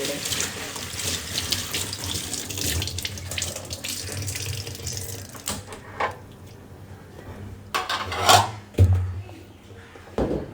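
A kitchen tap runs in a steady, close splash while a packet is rinsed under it, then the flow stops and a few clattering knocks follow.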